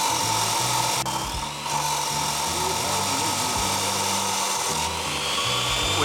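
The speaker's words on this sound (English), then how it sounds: "right now, Tor and I are cutting it up." Metal bar stock for a generator frame is cut with a power tool, making a continuous loud grinding and rasping noise with a pulsing low motor tone throughout.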